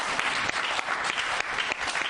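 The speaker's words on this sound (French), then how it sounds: "On peut encore applaudir pour le débat." A church or hall audience applauds after a debate on religion, a continuous dense round of clapping, close and steady, lasting the whole moment.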